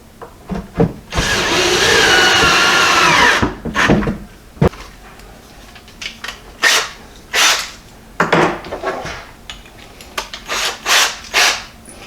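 Cordless drill driving deck screws into a wall while building a fishing and hunting work and storage center: one long, loud sustained whir of about two seconds, followed by scattered short clunks, taps and handling noises.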